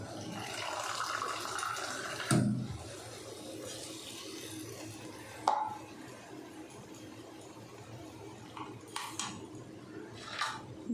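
Water added to a pan while paneer cooks: a faint running-water wash with a few sharp clanks of metal utensils, no talking.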